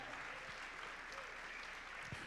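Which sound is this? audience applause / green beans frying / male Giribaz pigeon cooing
audience applause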